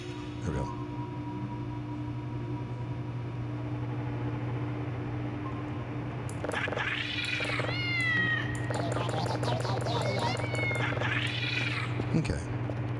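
Pet cats meow repeatedly in a home office, their rising and falling cries stacking up in the second half over a steady electrical hum and a faint noise bed.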